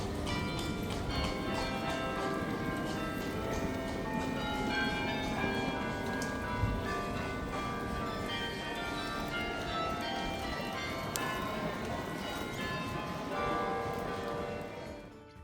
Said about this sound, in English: you can hear the Carillon being played with its